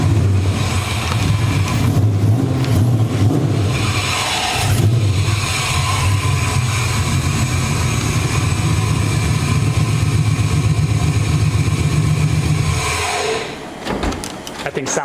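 A loud car engine idles and revs close up, a sustained throaty roar that swells and settles before cutting off near the end.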